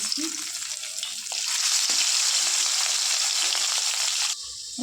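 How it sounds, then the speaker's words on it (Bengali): Fish rubbed with salt and turmeric sizzles and spatters steadily in hot oil in a kadai, a dense, loud crackle that swells after the first second and runs unbroken before cutting off near the end. "কড়াইটা বসিয়েছি, কড়াইতে তেল দেবো, মাছটা ভাজছি।"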